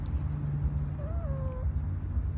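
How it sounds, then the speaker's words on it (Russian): A pet cat named Baton gives a single clear, drawn-out meow outdoors while out on a walk, heard over a constant low rumble of background noise. "Че ты мяукаешь?"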